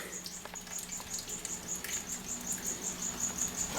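Feeder crickets chirp in a steady, rapid pulsing trill inside an enclosure of Uroplatus phantasticus leaf-tailed geckos, close and continuous, with faint rustling underneath and no talking.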